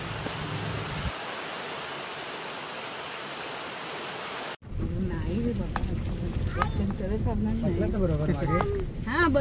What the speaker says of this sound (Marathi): खूप भरपूर असा पाऊस आहे